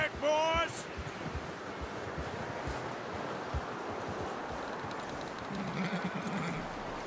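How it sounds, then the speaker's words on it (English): A short horse whinny rings out at the very start of this Red Dead Redemption 2 game scene, then gives way to a steady hiss of wind and outdoor ambience. "You should really tether that horse, Arthur."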